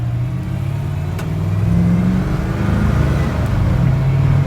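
A custom Ford F-150 sleeper truck with a twin-turbo small block V8 and a five-speed manual rumbles loudly and steadily, its low engine note rising slightly in a rev partway through, heard from close up without talk.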